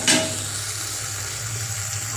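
Potatoes cook in a pan with a splash of water for a poha recipe, giving a steady low sizzle and bubbling after an initial clatter, with no talk.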